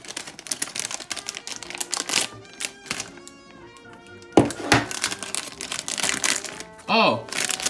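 A plastic LEGO Looney Tunes minifigure blind pack being torn open and crinkled, with sharp irregular crackles, rustles and taps in bursts and a few clicks near the end.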